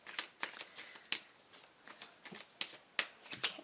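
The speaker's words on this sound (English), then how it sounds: "Let me go ahead and just shuffle this a little bit." Tarot cards shuffled by hand in a quiet room, a run of crisp papery riffles and taps coming in uneven bursts, close and fairly soft.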